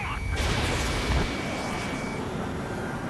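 Bombing and gunfire in the Ace Combat 7 video game: a loud, dense roar of explosions and artillery fire that is heaviest in the first second and then rumbles on steadily.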